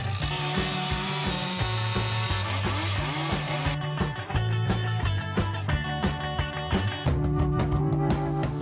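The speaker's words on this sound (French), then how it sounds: "Les arbres morts reprennent vie grâce à Christophe et ses coups de tronçonneuse." A chainsaw snarls continuously into dead tree wood while carving, its engine rising and falling in pitch as it bites, loud and close with no voices.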